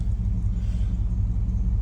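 A Chevrolet Silverado with about 120,231 original miles, back on the road after sitting five years, idles steadily with a low, even engine rumble, close and continuous, with no talking.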